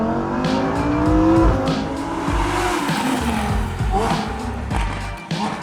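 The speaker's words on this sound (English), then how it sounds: "Sitting passenger in the Huracan, this was my one shot to feel the sound in real life." Lamborghini Huracan V10 on a racetrack, heard from the passenger seat: a loud, continuous engine roar rising and falling through gear changes, with tire squeal and brief skids mixed in.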